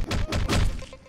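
A thudding crash as a character's head is smashed through a wall in Hotline Miami, heard as a cluster of heavy thunks and cracking impacts over about a second, loud and close.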